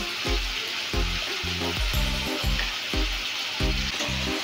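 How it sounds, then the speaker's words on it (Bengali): Coriander, cumin and chili powder hit hot oil alongside ridge gourd for a Bengali rohu fish curry, bringing a loud, close sizzle broken by rhythmic scraping strokes as the pan is stirred. "প্রথমে দিয়ে দিচ্ছি ধনে গুঁড়ো, জিরে গুঁড়ো, লঙ্কা গুঁড়ো।"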